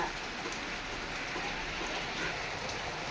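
Steady rain falling outside a home, a dense, even hiss of drops on surfaces that stays constant and fairly close throughout, with no voices.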